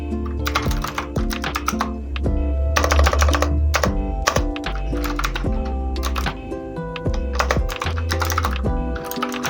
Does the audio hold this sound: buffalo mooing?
no